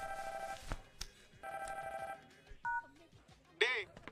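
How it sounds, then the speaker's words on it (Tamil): A telephone rings in two clear electronic bursts during a Tamil comedy film scene, followed by brief voices and short clattering noises. "ஃபோன் அடிக்குது."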